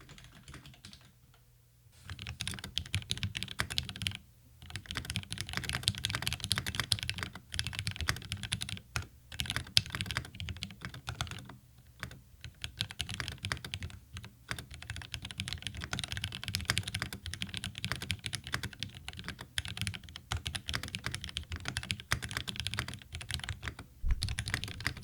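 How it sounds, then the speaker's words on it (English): Continuous typing on a mechanical keyboard with lubed, filmed, spring-swapped Cherry MX Hyperglide black switches, with steady dense keystrokes and brief pauses, heard close and clear with no talking. "Now this is built with lubed and filmed spring-swapped Cherry MX Hyperglide blacks, and we'll do a quick sound test right now."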